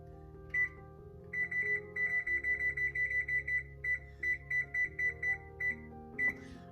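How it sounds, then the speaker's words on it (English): Kitchen timer set while cooking karela keema, bitter gourd with ground beef: a rapid series of sharp electronic beeps in regular bursts, fairly loud and close, over a low steady hum, with no talk. "I'll put the timer on for about 20 minutes and cook it for 20 minutes"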